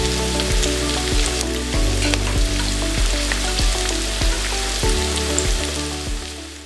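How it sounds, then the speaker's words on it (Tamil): Masala sizzling and frying in a pan while being stirred, a steady crackling hiss with rhythmic scraping strokes of the spoon repeating every second or so, close and fairly loud, no talking. "கருகாமல் அடிப்பிடிக்காமல் இருக்க இப்படி கிளறி விடுங்க"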